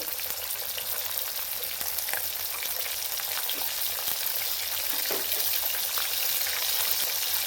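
Onions and chilies frying in hot oil, giving a steady, close sizzle with a dense crackling hiss and a few faint clinks of stirring.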